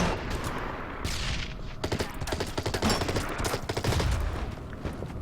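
Unit gunfire in the strategy game Order of Battle: Rising Sun, with dense rapid bursts of shots and machine-gun rattle, loud and continuous, broken by a brief pause before the volleys resume.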